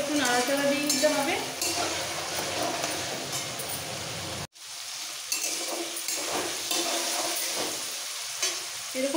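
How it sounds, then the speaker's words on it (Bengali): Vegetables for South Indian sambar frying and being stirred in a pan, with steady sizzling and scraping, brief clinks of a utensil, and a short dropout midway before the frying noise resumes. "মোটামুটি সবজির জলটা টানা পর্যন্ত একটু নাড়াচাড়া দিয়ে দিতে হবে।"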